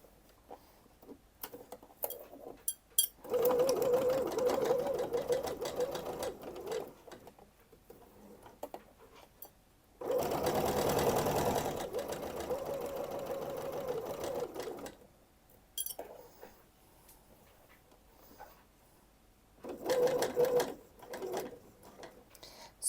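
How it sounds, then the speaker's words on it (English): Sewing machine stitching the square neckline of a luxury bag, running in short slow bursts with pauses between, moderately close and fairly quiet, with faint background talk. "So we'll sew this first and then turn around and go the opposite way."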